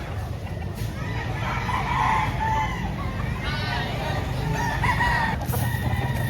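Roosters crow repeatedly at a busy chicken market in Lipa, Batangas, their calls rising over a loud, constant crowd murmur with clucking fowl nearby.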